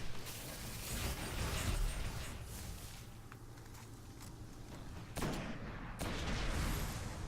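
Gunfire in the video game Destiny: a sniper-type weapon fires amid a dense wash of combat noise, with sharp louder shots standing out toward the end.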